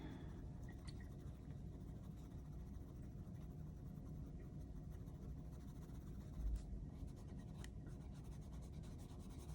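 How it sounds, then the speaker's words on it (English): Pencil shading on paper to lay down darker tones, a faint continuous scratchy rubbing close by over a low steady room hum. "And the pencil to lay down sharper darks."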